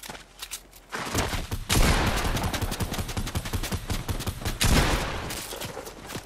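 Rapid gunfire from a Fortnite match: loud, dense bursts of automatic shots that start after a brief pause and keep going almost without a break, with sharp individual cracks within the barrage.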